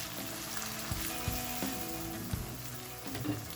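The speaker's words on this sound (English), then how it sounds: "Stir well so the spices bloom in the oil." Cumin paste and red chili powder sizzle in hot oil for chicken kosha, a soft, steady fry broken by a few low knocks and scrapes from stirring.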